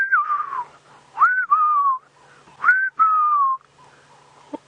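Someone whistles melodious sliding notes imitating a Magpie Shrike call, several short phrases with brief gaps, close and clear over a quiet outdoor background.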